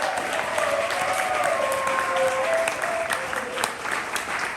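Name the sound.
applause for a poet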